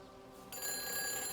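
In the video game Everybody's Gone to the Rapture, a telephone bell begins ringing abruptly partway through, a bright, sustained metallic ring that is faint and distant, with no talk over it.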